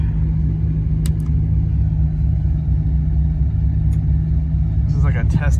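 A worn 300,000-mile Chevrolet Silverado pickup climbs a hill in two-wheel drive, its engine a loud, steady low rumble that continues throughout, with a brief voice near the end.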